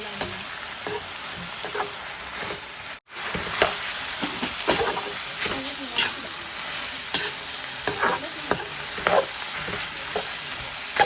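Mustard greens and meat stirred together in a sizzling pan: a steady frying hiss runs throughout, broken by frequent scraping and tapping strokes of the spatula and a brief pause near the start.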